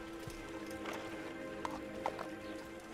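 Horse hoofbeats in Assassin's Creed, a steady clip-clop of a ridden horse moving at moderate pace, fairly close, with a few sharper thuds and faint game ambience underneath.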